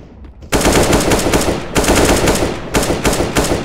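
Loud close automatic gunfire in the video game CS:GO, three rapid sustained bursts cracking in quick succession after a brief quiet start.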